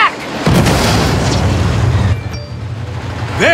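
Explosions in the Saints Row video game, a sustained loud rumbling burst of blasts filling the first two seconds, easing into a quieter tail with a brief rising whine at the end.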